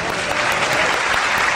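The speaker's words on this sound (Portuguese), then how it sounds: "Salva de palmas para o corpo de bombeiros." Dense, steady applause from an audience honoring the fire brigade on a Brazilian television program, a loud continuous wash of clapping heard briefly and alone.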